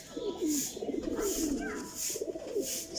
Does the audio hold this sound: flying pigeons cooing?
yes